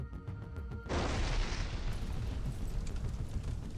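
A large explosion destroying military equipment erupts suddenly after a moment of quieter background, then a sustained, roaring rumble of blast and debris continues loud and broad throughout.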